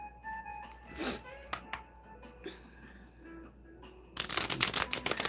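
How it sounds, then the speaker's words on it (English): Playing cards riffled in a butterfly shuffle, soft ruffling bursts near the microphone amid quiet room noise and breathy sounds, ending in a longer, louder flurry of card riffling. "Okay, one more butterfly shuffle."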